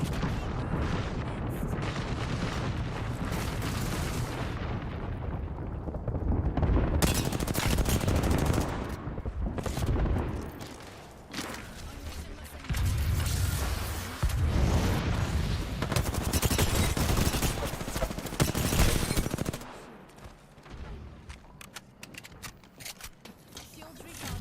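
An airstrike rains down in an Apex Legends match, a heavy bombardment of booming blasts and rapid crackling bursts. It rages loudly in long waves, breaks off briefly, returns, then drops to scattered quieter impacts near the end.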